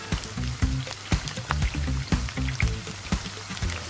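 Shrimp fry in hot oil, giving close, bubbling crackles and irregular pops over a steady sizzle.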